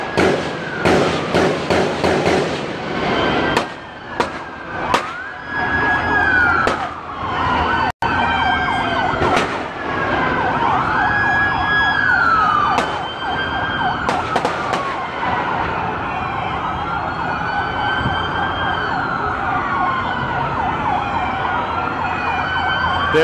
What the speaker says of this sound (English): They're shooting right now